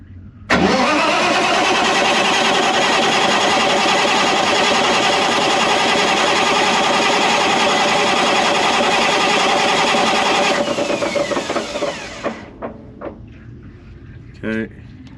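A Caterpillar C15 diesel engine on a generator install cranks and fires, then runs loud and steady for about ten seconds before shutting down and spinning to a stop, with a few clanks afterward.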